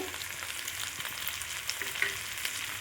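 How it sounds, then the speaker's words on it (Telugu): Green chillies and ground cashew frying in a pan give a continuous, close, crackling sizzle with light popping throughout. "వేసుకుని ఒక నిమిషం ఫ్రై చేసుకోవాలి ఇలా వేగితే సరిపోద్దండి"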